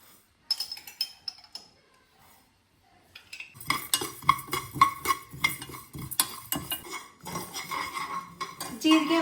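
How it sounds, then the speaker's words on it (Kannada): Cumin and mustard seeds are tipped into a pan in a home kitchen, giving a few faint clinks, then a busier stretch of spoon-on-pot scraping and clattering that stays close and fairly loud to the end. "ಅದ್ರ ಜೊತೆಗೇ 2 ಸ್ಪೂನಷ್ಟು ಜೀರಿಗೆ ಹಾಕ್ಕೊಳ್ತಿದ್ದೀನಿ. ಆಮೇಲೆ 2 ಸ್ಪೂನಷ್ಟು ಸಾಸಿವೆ"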